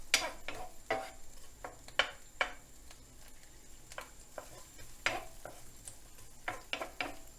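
Spoon stirring chopped onion and cherry tomatoes frying in a pan for a tuna pasta, heard as a run of close, irregular scraping and clinking strokes over a faint, quiet sizzle, with no voices.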